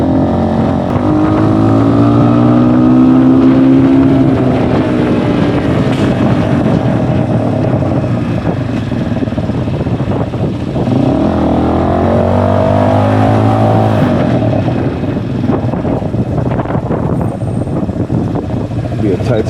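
A motorcycle rides through city traffic on the way to a market, its engine revving and droning steadily up close with wind buffeting the microphone, and someone talking over it throughout.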